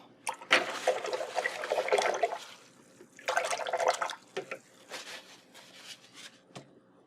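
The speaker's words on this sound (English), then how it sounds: "I'm going to give my brush a rinse." A paintbrush rinsed in a water jar, with splashy swishing in two main bursts and lighter sloshes and drips after, close and alone.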